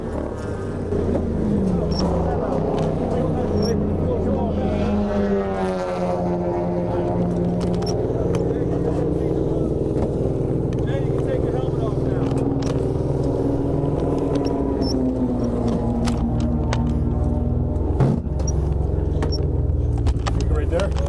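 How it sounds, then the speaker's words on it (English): A race car pulls into the pits at Dominion Raceway during an endurance race, its engine note rising and falling through gear changes under steady talk. "Rich brings the car into the pits"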